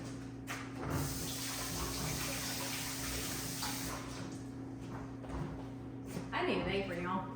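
Water runs steadily from a kitchen tap while dishes are washed during cooking for a large crowd, a continuous broad wash with hum underneath and occasional clinks, a voice talking over it.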